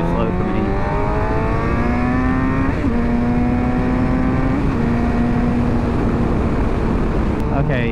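A motorcycle engine revs steadily higher as the rider accelerates to pass a slower vehicle, a loud continuous drone with rising pitch over heavy wind rush, while someone talks over it.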